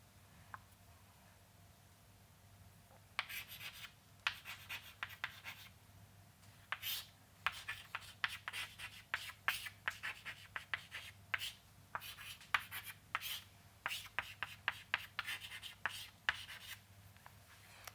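Handwriting an equation with pen on paper, quiet scratchy strokes coming in short bursts and pauses over a faint steady hum, close and soft.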